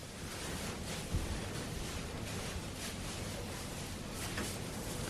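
Strong, cold wind roars through a whiteout blizzard, a dense, steady rush of noise with gusts that swell and ease, and a brief low thump partway through; no one speaks.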